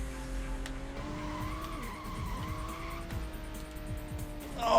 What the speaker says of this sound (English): I'm gonna drop speed when I'm still scraping along the wall